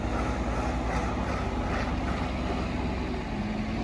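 A JCB digger stuck in the ground with diff lock engaged, its diesel engine held at full throttle in a loud, continuous rough roar that barely varies, with no speech.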